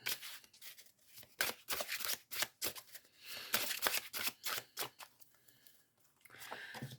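Tarot cards for a Scorpio reading are shuffled in rapid bursts of crisp riffling and slapping, repeated again and again over several seconds, close and fairly loud with no talking.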